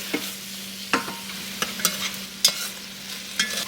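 Okra sizzles in a pot as it cooks down for a chicken and seafood gumbo, with soft frying hiss under a series of sharp scraping stirs close by.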